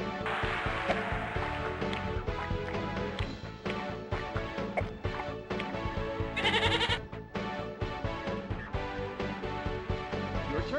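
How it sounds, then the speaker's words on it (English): A goat bleats as a game-show prize, a short bright wavering cry rising over busy, continuous music with rhythmic beats that plays loudly throughout. "and a goat."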